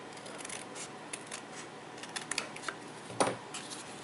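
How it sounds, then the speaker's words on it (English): Scissors snip through chipboard on a paper-craft tag box with a mini album, making a run of small, close, crisp cuts and a louder final snip near the end, with no voices. "I'm going to cut right up to my chipboard, and then I'm just going to trim it all the way off"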